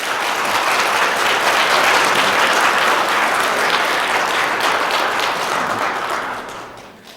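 A church congregation applauds to welcome new members, sustained full-room clapping that holds steady and tapers off at the end.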